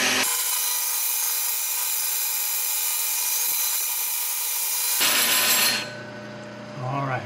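A carbide-tipped power carving tool grinds into wood with a loud, steady whine for several seconds, then spins down and stops, followed by a brief voice.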